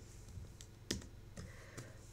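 Keyboard typing on a computer while entering a color name into a Squarespace block's CSS, a few soft scattered key clicks over a quiet low hum, close and faint.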